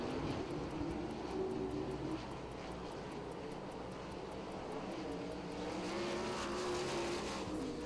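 410 sprint race cars roaring around the dirt oval at Lincoln Speedway during a heat race, a distant, faint, continuous engine drone with rising and falling passes and no clear voices.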